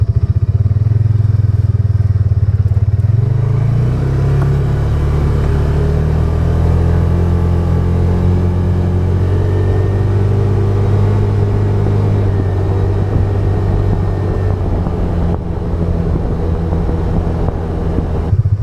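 Polaris Ranger 570 UTV running flat out at top speed with a half windshield, a loud steady engine drone with a low rising pitch at the start, heavy wind buffeting over the microphone, and rattling throughout.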